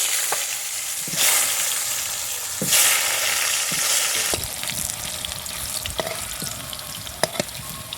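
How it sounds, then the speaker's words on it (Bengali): Potato pieces are dropped into hot oil that earlier fried boal fish, giving a loud, continuous close sizzle with bursts as they hit the oil and scattered crackles and stirring clinks. "এবার ওই তেলেই মা আলু দিয়ে দিচ্ছি"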